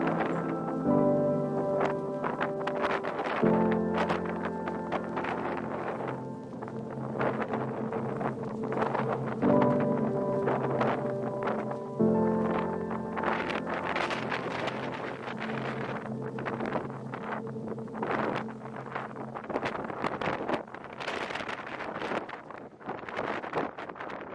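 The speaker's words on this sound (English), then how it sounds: "I've never seen so much wind all day." Strong gusting wind sweeps across the Alaskan mountains on a spring brown bear hunt, buffeting loudly and unevenly against the microphone in repeated roaring surges for the whole stretch.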